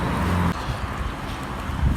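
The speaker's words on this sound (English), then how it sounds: "It's very windy tonight." Steady roar of strong wind buffeting the microphone at night during an outdoor run, loud and continuous, with low rumbling gusts and no voices.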